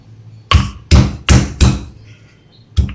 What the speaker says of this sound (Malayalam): വെളുത്തുള്ളി ചതയ്ക്കാം